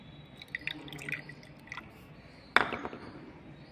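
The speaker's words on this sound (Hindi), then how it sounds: "अब हम डालेंगे ग्रीन चटनी। ये फ्रेंड्स हमने लिया होममेड ग्रीन चटनी" Homemade green chutney of coriander and green chili dripping and splattering onto aloo chaat, a string of soft wet drips and squishes ending in one sharper splat, close up with no talk.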